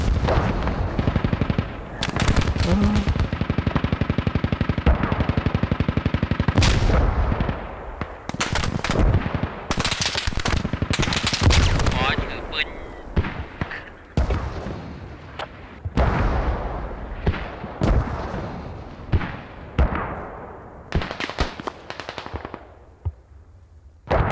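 Rapid gunfire and explosions in the military shooter game Squad, dense automatic bursts and single shots layered loudly for the whole stretch, with brief lulls between volleys.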